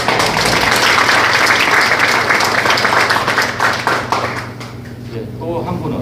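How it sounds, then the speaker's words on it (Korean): An audience at a Korean forum on seafood safety claps to welcome a professor lecturer, a dense burst of applause that starts loud and gradually thins out toward the end. "여러분 큰 박수로 환영해 주시기 바랍니다"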